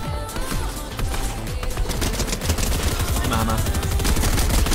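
Rapid, continuous bursts of automatic gunfire in a GTA roleplay game, loud and close with sharp repeated cracks that barely pause; a voice briefly speaks over the shooting.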